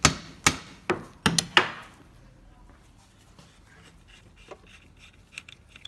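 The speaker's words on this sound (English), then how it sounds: "we're just going to give it a light tap and just get it coming through the other side" A light hammer taps a primary shaft through on a SYM Jet4R scooter, giving about six sharp, close knocks in quick succession, followed by quieter handling noises.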